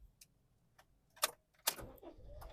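A manual car on a hill start is started: a few faint clicks and key or switch sounds, then a sharp starter burst and the engine catching into a low steady idle, nearby and quiet.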